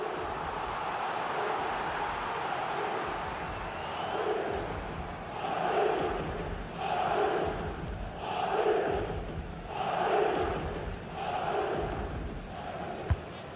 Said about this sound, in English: the crowd sense that there's a goal coming. They really are getting behind their team here.